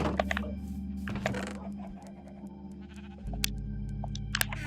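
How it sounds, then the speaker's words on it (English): Two sheep in the Minecraft video game bleat in short, close, fairly loud calls, mixed with scattered game blips and clicks over a steady background hum. "I also have 2 sheep here because why not?"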